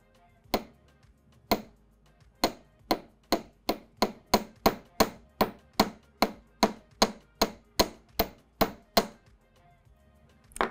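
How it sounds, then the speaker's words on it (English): A hammer strikes copper wire loops of a wig jig bracelet flat, about twenty sharp, evenly spaced metallic taps at a slow, steady pace, close and clear with no talk. "make sure they're a little bit flat closed before you start hammering"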